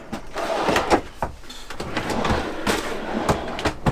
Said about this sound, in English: These all slide out.